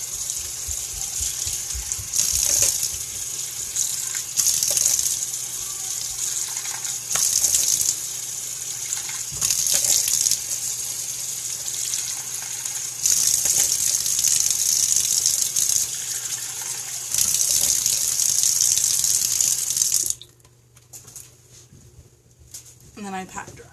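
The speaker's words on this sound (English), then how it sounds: "And then I just take a few warm water splashes and just splash it all off." Warm water running from a tap and splashing steadily in a bathroom while a face is rinsed, broken by short louder splashes, before the flow stops abruptly near the end.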